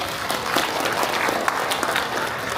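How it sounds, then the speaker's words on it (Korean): Audience at a county governor's town visit in Jeongsan gives a round of thank-you applause, brisk dense clapping with individual claps standing out, moderately loud and steady throughout with no speech. "감사의 박수 한번 보내주시기 바랍니다"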